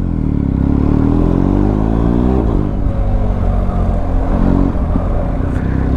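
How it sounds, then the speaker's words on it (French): A motorcycle engine roars close by, its pitch climbing and falling as it revs and accelerates, loud and continuous. "dès que t'entends un bruit de moto, tu lèves la tête, tu te retournes"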